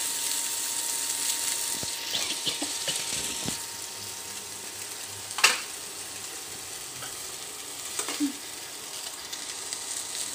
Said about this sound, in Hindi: धीरे धीरे धीरे भून रहा है